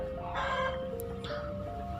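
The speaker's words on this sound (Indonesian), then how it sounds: "Sorry ya guys kalau ada suara ayam" A rooster crows faintly in the distance in a village over a low steady hum, with a short high chirp partway through.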